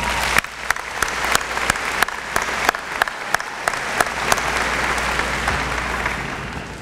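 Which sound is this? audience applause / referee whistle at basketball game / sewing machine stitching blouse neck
audience applause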